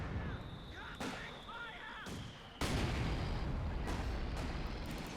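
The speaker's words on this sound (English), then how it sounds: "Nice mortar hit." A mortar shell strikes in a Company of Heroes 2 battle, a sharp heavy impact boom among scattered distant explosions and gunfire, with a commentator's voice talking through the battlefield din.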